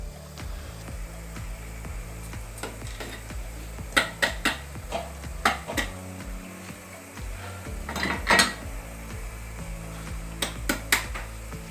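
Steamed idiyappam lifted into a dish, with scattered metallic clinks and knocks of utensils and vessels, irregular and fairly close, several sharper taps clustered near the middle and end.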